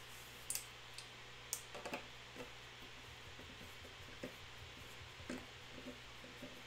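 Clicks from a keyboard with tall slider linear Alps switches, a quiet scattered patter of soft taps and a few sharper clacks over a steady low hum, with no talking.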